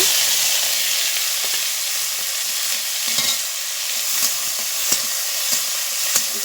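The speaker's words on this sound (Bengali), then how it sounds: "এই শাকটা এবার কড়াইতে দিয়ে দিচ্ছি" Chopped leafy greens fry in a wok with a steady, close sizzling hiss, and a spatula stirs them, making occasional light scrapes and taps.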